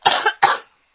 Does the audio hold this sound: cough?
yes